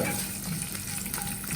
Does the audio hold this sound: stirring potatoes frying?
yes